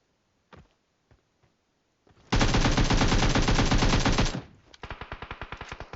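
Automatic gunfire in the mobile battle royale game PUBG Mobile: a few scattered single shots, then a loud sustained burst of rapid fire lasting about two seconds, followed by another rhythmic volley.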